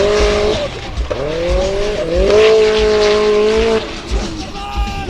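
Formula Offroad unlimited-class racing car at Hella, Iceland, engine revving hard with rising and falling pitch sweeps, loud and close, with tire squeal and a commentator talking over it.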